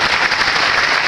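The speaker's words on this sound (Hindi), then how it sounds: "थोड़ा ताली बजा लीजिए सर" An audience at a business seminar applauds, a loud, dense burst of many hands clapping close by, brief and steady throughout.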